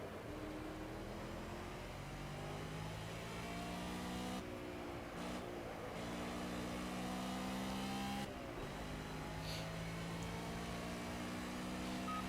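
A race car engine in the Project Cars video game at Hockenheim National drones and shifts pitch through the gears, with a couple of brief dips as it lifts off, steady and continuous with no voices.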